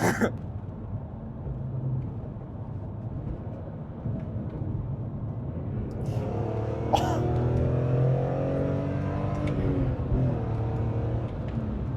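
BMW M3 E46 engine heard from inside the car while driving: a steady low mechanical drone that swells into a rising, building tone partway through as it accelerates, continuous throughout with no talk over it.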